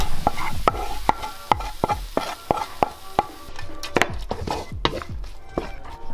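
Chili omelet with buckwheat noodles frying in a pan in Bhutan, a soft sizzle broken by a steady run of sharp utensil scrapes and taps against the pan, about a dozen close strikes.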